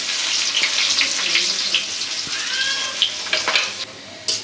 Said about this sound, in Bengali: এখন দিয়ে দিব পেঁয়াজ কুচি আর কাঁচামরিচ